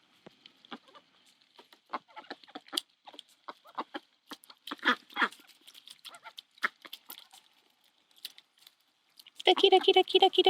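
Ducks on a homestead, tame birds raised around kids, burst into a dense run of close quacking near the end, after scattered clicks and rustling.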